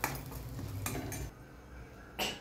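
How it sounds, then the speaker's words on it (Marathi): Spice masala for karela bhaji is sautéed in oil in a pan, with a spoon scraping and clinking against the metal in bursts and faint sizzling between the strokes, close and fairly quiet. "तोपर्यंत मसाला परतून घेऊ आपण"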